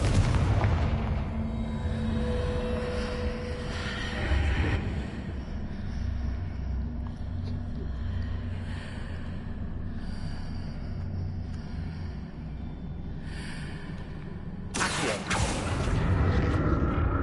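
The Confringo spell blast in the video game Hogwarts Legacy: a booming burst over a low, rumbling game ambience, with a second sharp surge near the end, no speech.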